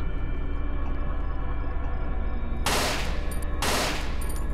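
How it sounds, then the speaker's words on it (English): Rifle shots in the Cry of Fear horror game, with two loud, sharp blasts a second apart over a steady droning ambient hum. "So now I know I can get out my rifle and take him out that way."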